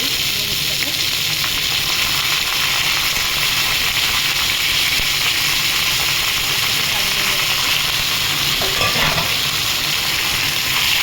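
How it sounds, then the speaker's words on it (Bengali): Potatoes and cauliflower frying in a pan, a steady, dense sizzle and hiss that runs unbroken from start to finish, close and fairly loud, with faint kitchen clatter underneath. "এবার এই আলুর সাথে দিয়ে দিলাম, যাতে ভালো করে আমি ভেজে নিতে পারি জিনিসটাকে"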